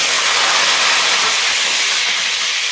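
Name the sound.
potatoes frying in hot oil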